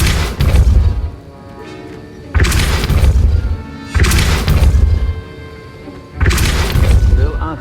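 Depulso spell impacts in the video game Hogwarts Legacy land as four heavy booming blasts with crashing, shattering tails, spaced a second or two apart and loud and close.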